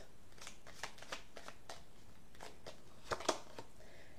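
Tarot cards being shuffled and drawn, a quiet run of soft riffling flicks and papery snaps close by, with a couple of sharper card slaps near the end.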